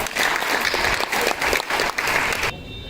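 Audience applause at a Diwali celebration in Goa, a dense burst of clapping from a crowd that rises and dips in waves for about two and a half seconds, then stops abruptly.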